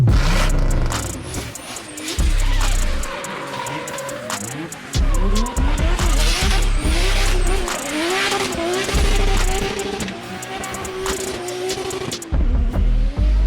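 Rally cars race at close range with loud roaring engines that rise and fall through gear changes, while tires screech and skid through the turns, continuously and densely.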